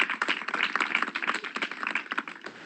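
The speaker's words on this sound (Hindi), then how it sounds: "जोरदार तालियां बजाएं।" A church congregation applauds, producing faint, dense, rapid claps from a distance with no voices over them.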